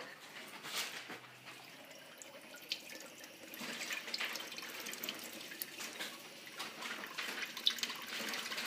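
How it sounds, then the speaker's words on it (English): Beef broth pours into a pan in a quiet kitchen, a soft, uneven splashing and trickling of liquid with faint clinks, fairly close and low in level. "We're going to add some beef broth."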